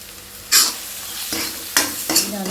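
Spice masala of salt, turmeric, coriander powder, red chilli powder and fenugreek frying in a pan, with a steady sizzle broken by several bright bursts as it is stirred, close and fairly loud with no talking.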